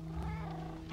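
Cat sound in the Minecraft video game, a short, quiet, low purring or meowing tone over faint game background noise.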